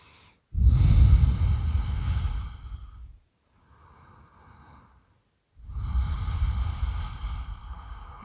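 Slow, deep breathing during a gentle yoga flow: a long loud exhale, a soft faint breath, then another long heavy breath, all close to the microphone.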